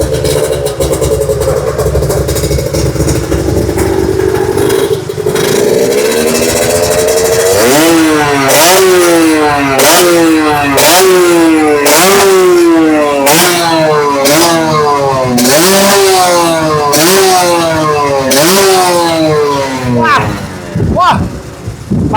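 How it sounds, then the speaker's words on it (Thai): A classic motorcycle engine with a race-style exhaust idles roughly at the Chang International Circuit track, then revs over and over in loud, close bursts that rise and fall in pitch. "เอาไหนติดเครื่องให้ฟังหน่อย"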